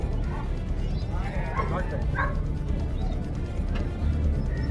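Dogs bark and yip excitedly in short bursts at a moderate distance, set against a steady noisy background, with people talking over them.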